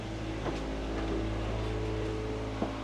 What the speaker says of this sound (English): You still actually notice the motor up here in the bow.